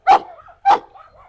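A pitbull or Cane Corso gives two loud, close barks about half a second apart, each followed by a softer trailing whine.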